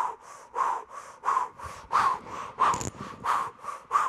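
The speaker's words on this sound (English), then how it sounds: "and you're going to breathe through your mouth." Open-mouth breathing exercise with arms raised overhead and thumbs tucked into fists, a rhythmic series of about eight quick, breathy puffs at a steady pace, close and fairly soft.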